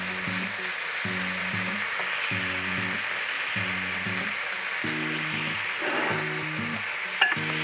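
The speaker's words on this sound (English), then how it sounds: "So when the lardon starting to be cooked, you can add the crouton" Lardons and croutons frying in a pan, a steady bright sizzle throughout with a faint clink near the end, over a low repeating background hum.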